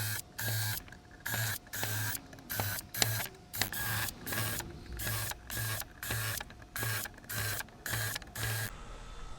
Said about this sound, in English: we're going to drill our pilot holes. I'm going to use my counterset bit